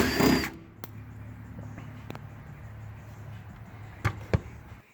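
A power drill backs Phillips screws out of a Suzuki Sidekick door panel while the window regulator is removed, with a loud whirring burst at the start, then quieter shop noise and two short sharp bursts near the end.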